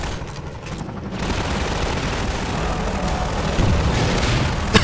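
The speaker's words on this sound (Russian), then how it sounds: "тут там стреляют" Dense gunfire in Half-Life 2, a steady barrage of rattling shots and booms that stays loud throughout, with a few sharper hits near the end.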